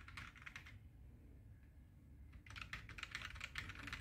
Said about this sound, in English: I can go ahead back and go there and continue the typing.